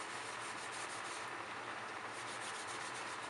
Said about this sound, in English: I use a Scotch sponge that's got the little scrubber on the back side.